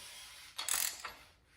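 Ratcheting clicks from a torque wrench tightening rod bolts on a Ford 408 short block engine, a short burst of rapid metallic ticks heard up close with no talk.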